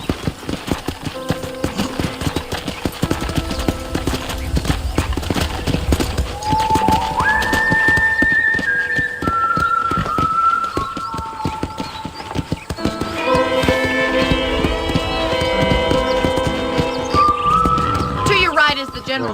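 A horse's hooves clip-clop steadily in the Red Dead Redemption video game, with whinnies rising above the rhythmic beat, mixed under background game music and character voices.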